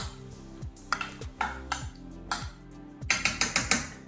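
A utensil stirs tomatoes with balsamic vinegar and olive oil in a bowl, making a steady series of close clinking pings and scrapes that quicken into rapid taps near the end.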